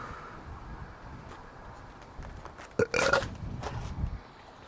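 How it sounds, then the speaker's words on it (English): A person lets out a loud burp mid-conversation, a short rough belch close to the microphone over a background of room noise and mic rumble. "I'm burping."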